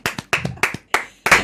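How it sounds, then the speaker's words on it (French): Five separate bursts of clapping from a small group at a televised event in Burkina Faso, short and uneven, each lasting a fraction of a second, close and fairly loud with no talk over them. "Ça s'applaudit."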